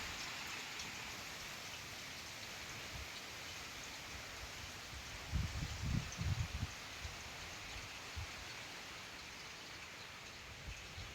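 Soft, steady rain patters continuously in the distance, with a few louder drops or splashes briefly standing out midway.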